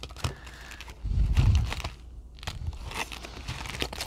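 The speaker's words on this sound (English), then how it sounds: "I feel like it needs one more shuffle" A deck of tarot-style reading cards is shuffled by hand, giving soft riffling and crinkly papery rustles up close, with a louder flurry of card noise in the middle.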